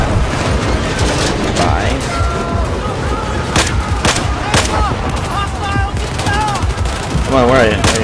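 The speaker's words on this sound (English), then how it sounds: "There's people still trying to shoot us?" Gunfire rattles through a Battlefield video game match, with rapid bursts of shots and sharp booms layered over a dense battle din, while a player talks over it.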